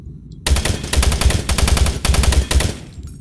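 Rapid automatic gunfire from a weapon in the video game Doom 3, loud close bursts of repeated shots starting abruptly, with brief pauses between volleys, then cutting off.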